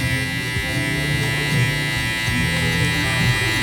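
Electric hair clippers fitted with a half guard buzz steadily and close by during a taper fade haircut, a continuous motor hum with small shifts as the blade moves through hair.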